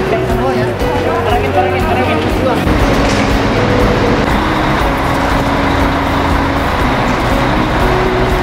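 A bus on a road in Turkey, bound for Cappadocia, carries a steady engine drone and road rumble from start to finish, with low tonal hum and people talking inside the vehicle.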